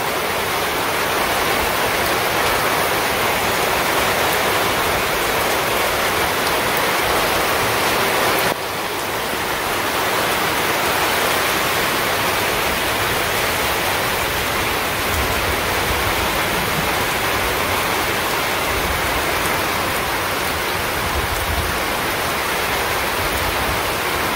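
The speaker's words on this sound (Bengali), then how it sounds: "একদম একবার বৃষ্টি নামছে" Heavy rain pouring down outdoors, a dense, unbroken roar of water that stays loud and close for the whole stretch, with a brief dip in intensity partway through.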